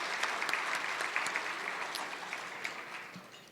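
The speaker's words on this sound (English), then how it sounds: "Let's give them all a round of applause." An audience at a Dress for Success empowerment breakfast claps steadily, a dense, even patter of applause from a roomful of people lasting several seconds without talk.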